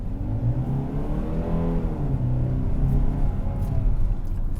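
A 2023 Kia Sportage with a 2.5-liter engine accelerates in sport mode, a steady loud engine drone rising in pitch as it pulls, with road rumble underneath and no talk.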